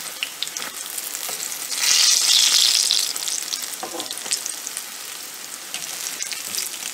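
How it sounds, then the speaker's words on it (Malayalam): Brinjal slices frying in a pan for a Kerala vegetarian lunch, a steady close sizzle with a louder hissing burst partway through and faint scraping, no voices. "ഇനി ഇത് നന്നായി ഫ്രൈ ആവട്ടെ."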